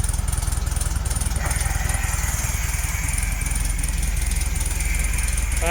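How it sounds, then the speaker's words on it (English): An old Volkswagen engine runs steadily at close range with a rough, pulsing idle and a mechanical whine, and its tone shifts partway through. "You could hear the engine change."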